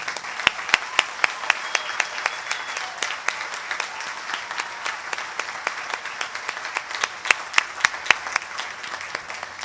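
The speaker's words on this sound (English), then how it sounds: "let's give them a round of applause" Applause for award recipients at a university commencement ceremony: a crowd clapping steadily for nearly ten seconds, dense and even, with a few sharper nearby claps standing out and faint murmuring underneath.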